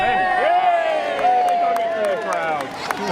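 At an English Civil War reenactment in Bradford-on-Avon, a crowd cheers the defenders with sustained, loud shouts of many overlapping voices, raised in a drawn-out chorus.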